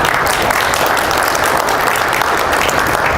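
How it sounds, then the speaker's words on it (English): An audience stands and applauds an RCMP detachment officer at an evening presentation, with dense, steady clapping that fills the room and continues loudly without pause. "I want everybody to clap for this man."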